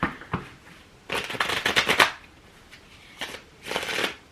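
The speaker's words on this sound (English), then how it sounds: "Bad shuffling is what's happening." Tarot cards shuffled close by in several quick riffling bursts, with short pauses between them.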